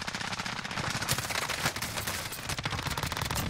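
Continuous automatic gunfire in Call of Duty: Warzone, a loud rapid machine-gun rattle with dense overlapping shots throughout.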